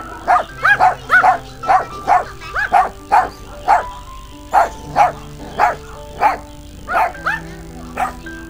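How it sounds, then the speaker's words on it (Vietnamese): Dogs kept among sheep, deer and other farm animals at a resort petting area in Dalat bark in a steady, repeated series of about fifteen sharp barks, fairly close and loud, with no talk over them. "những chú chó khá là dễ thương luôn."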